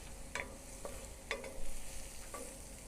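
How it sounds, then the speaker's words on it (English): Mangoes cook down in a hot pan for chicken mango habanero lollipops, giving a steady low sizzle with a few sharper stirring scrapes spaced across the moment, close by and moderately loud, with no talking. "Get our mangoes nice and cooked."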